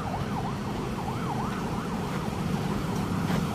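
An ambulance siren on a city street near a beach, wailing in a steady rising and falling pattern over loud, continuous road traffic noise, with no voices.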